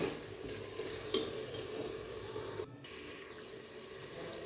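Flour with ajwain roasting in ghee is stirred with a spoon: soft scraping and a low sizzle, with a sharp clink just past one second and a brief dip in the noise midway.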